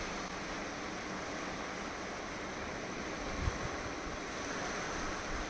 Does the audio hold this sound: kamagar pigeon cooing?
no